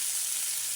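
Chopped tomatoes sauté in a hot pan, giving a steady, close hiss of sizzling that holds evenly throughout the short moment, with no voices.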